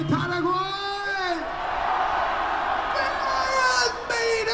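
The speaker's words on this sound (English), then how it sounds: "Scream for me, Paraguay!" Concert crowd at a show in Paraguay, a dense roar of cheering and whooping that swells throughout, with a sustained singing voice rising over it at the start and again near the end.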